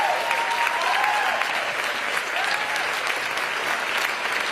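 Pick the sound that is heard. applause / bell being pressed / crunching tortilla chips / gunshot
applause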